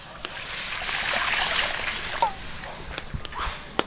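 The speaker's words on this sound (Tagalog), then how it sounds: "Lagyan natin maraming tubig mga kapulutan." Water is poured into mushroom gravy in a pan, a soft sustained splashing and bubbling followed by a few sharp clicks and taps near the end.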